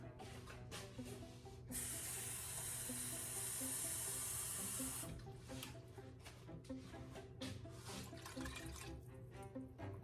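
Water pours from a tap into a vinegar pickling mixture, a steady broadband rush lasting a few seconds at the middle, set among quieter kitchen clatter.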